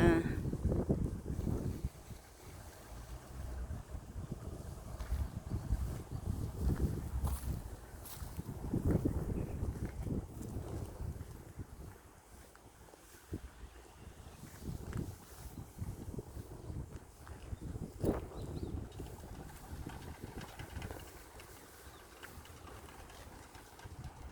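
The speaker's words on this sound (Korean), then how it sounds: "바람이 엄청 불어" Strong wind gusts buffet a vegetable garden set with spinning pinwheels meant to scare off birds, a rough, rumbling rush of air hitting the microphone in uneven surges throughout.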